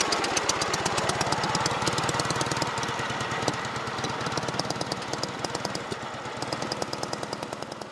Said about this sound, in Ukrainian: Учасники мали можливість покататись на цьому мотоциклі.